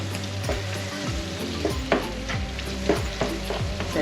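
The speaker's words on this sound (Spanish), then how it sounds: "y la movemos durante un minutillo para que la harina se tueste y no se quede cruda" Onion and flour fry in a pan with a steady sizzle as a utensil stirs and scrapes through them in a loose, repeating rhythm, up close.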